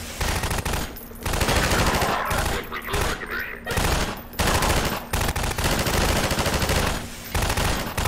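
Half-Life 2 combat with loud sustained automatic gunfire in repeated long bursts broken by short pauses, close and dense, with a voice occasionally heard beneath the shooting.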